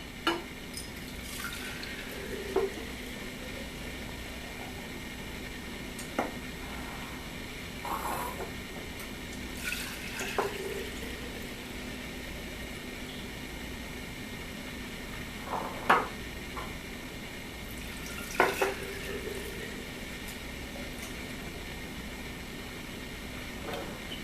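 Kombucha is poured into jars and lids are put on, giving scattered clinks, clicks and brief scrapes of glass and metal over a steady background hiss, with no talk.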